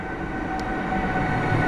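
An Express Intercity Ondraszek train hauled by EU200 locomotive number 014 pulls into Sosnowiec Główny station, a steady low rumble of rolling stock with a constant hum, even and close throughout.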